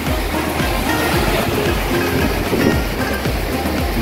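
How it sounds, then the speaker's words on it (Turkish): Steady, dense rushing water from the Aras waterfall roars continuously at close range, a broad unbroken wash of sound with no voices. "Şelale, su sesleri."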